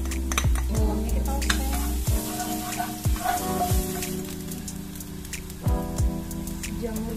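Garlic sizzles and crackles loudly in a hot pan while a utensil scrapes and stirs it in repeated quick strokes, with a steady frying hiss underneath.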